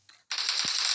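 Loud, sustained burst of gunfire in the mobile game PUBG Mobile, a dense bright crackle of rapid shots that sets in after a short quieter scrape and continues to the end.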